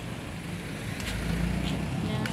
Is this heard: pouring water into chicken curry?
no